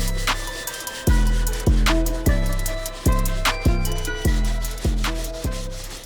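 A soft bristle brush dipped in water and cleaning solution scrubs the uppers of Air Max 90 Warhawk sneakers. Close, loud, repeated scrubbing strokes come roughly every half second in a steady rhythm.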